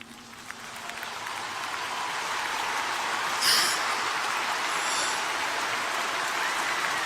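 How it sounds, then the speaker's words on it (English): Thunderous applause from a funeral audience, a dense wash of clapping that builds from quieter to a loud, sustained roar and holds steady to the end. "And that was met with thunderous applause."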